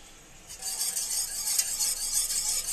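Milk powder being stirred into milk in a bowl, a soft continuous swishing and light scraping of a spoon that starts after a brief quiet moment, close and gentle.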